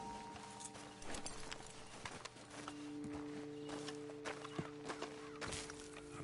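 Hooves clip-clop steadily at a walking pace in the video game Red Dead Redemption 2, a few horses moving together over a continuous low hum and ambient background.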